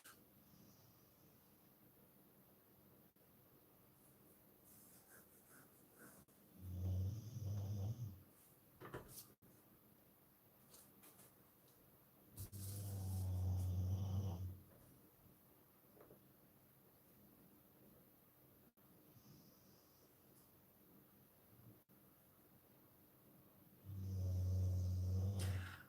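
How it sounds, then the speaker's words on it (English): A dog snoring indoors: three drawn-out, low rumbling snores spaced several seconds apart, fairly loud against a quiet background hiss, with no talking. "The dog is snoring."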